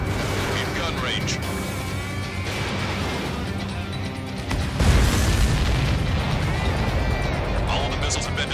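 Missiles blow up in the flight combat game Ace Combat 7, heard as booming blasts and crackling rumble over a steady jet roar, loud and dense, with a sharper burst midway and game radio voices speaking.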